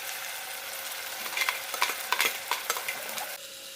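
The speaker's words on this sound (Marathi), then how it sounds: "कांदा छान परतून झाल्यानंतर टमाटरची पेस्ट टाकायची आहे" Chopped onions and tomato paste frying in hot oil, a steady close sizzle broken by several scraping stirs of a spoon in the pan, then a quieter sizzle near the end.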